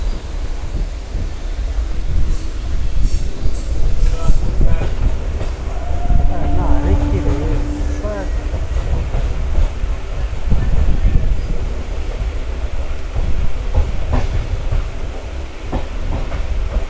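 A passenger train on the Trichy to Bangalore line rolls along the rails at slow speed, a loud continuous rumble with wind noise and faint clickety-clack, heard from inside the carriage with someone talking over it.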